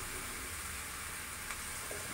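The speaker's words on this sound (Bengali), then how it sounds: "এবার কিছুক্ষণ কষিয়ে নিচ্ছি।" Spices with turmeric powder and salt sautéing in a pan for a Bengali curry, giving a steady, soft hiss of frying that stays even throughout, with no talk.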